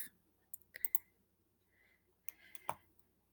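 Sparse, quiet computer mouse clicks, a few isolated taps and a quick double click, close and dry with near silence between them.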